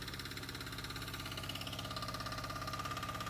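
A homemade walk-behind tractor fitted with a potato digger runs steadily, its small engine chugging in a continuous rhythmic idle with metallic vibration, heard close and alone.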